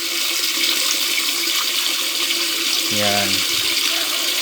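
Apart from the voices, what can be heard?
water float valve filling a tank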